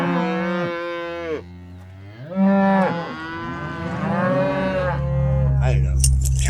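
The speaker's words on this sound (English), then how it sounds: "I have a company of cattle that is right down below trying to figure out what I'm doing." Several cattle on a coastal hillside below a hiker's camp moo loudly in long, drawn-out calls, one after another, with a brief pause before the lowing resumes and overlaps near the end.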